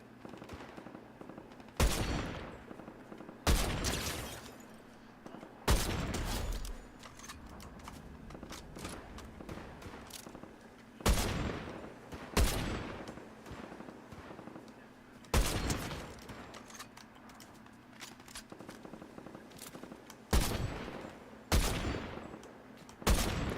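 Sniper gunfire in a video game: a slow series of loud, sharp single shots, roughly one every two seconds, each with a short echoing tail, with no talking.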